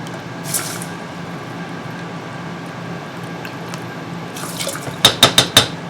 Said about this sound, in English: And 2/3 cup of water or vegetable broth.